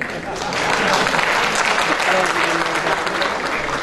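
An audience claps steadily, a dense wash of applause that swells quickly and holds throughout.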